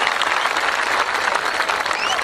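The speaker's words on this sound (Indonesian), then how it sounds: "Tepuk tangan untuk Mas Andri" An audience applauds Mas Andri, a newly welcomed guest at an Islamic sermon by Gus Mifta. Dense, steady clapping from many hands fills the whole stretch at a fairly loud, even level.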